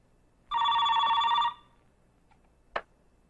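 A telephone rings once with a loud, steady electronic trill lasting about a second in an otherwise quiet room, followed moments later by a short sharp click.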